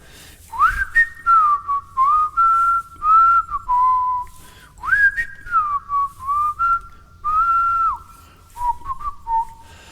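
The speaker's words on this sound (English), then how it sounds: "I'm just whistling down the road." A person whistles a clear, bright melody in several sliding phrases with short pauses between them, close and alone.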